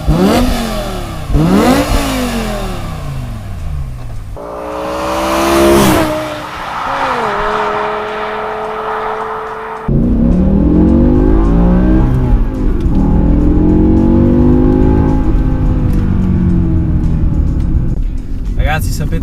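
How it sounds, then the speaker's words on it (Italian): A six-speed manual BMW M5 E60 with a V10 and straight exhaust revs hard and loud, the engine climbing and dropping in repeated sweeps with gear changes, while someone talks over it throughout. "Ma ve lo immaginate un 10 cilindri così, con uno scarico diretto?"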